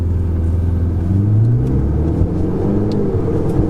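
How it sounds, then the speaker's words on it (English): A Ferrari 488 engine downshifting, heard from inside the cabin as a loud, steady low rumble with pitch shifts as the revs change, with no talking. "Oh, there's a downshift."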